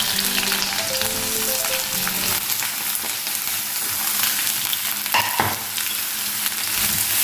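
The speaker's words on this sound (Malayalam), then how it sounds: "ഇനി ഇതിലേക്ക് കട്ട് ചെയ്ത സവാള ചേർത്ത് കൊടുക്കാം." Chopped onions fry in coconut oil in a pan, a continuous crackling sizzle with occasional scrapes and stirs from a utensil, close and steady throughout.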